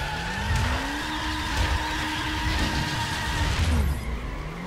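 A Subaru's tires skid and squeal while drifting in The Crew video game, a continuous loud screech over the engine drone, with its pitch shifting as the car slides.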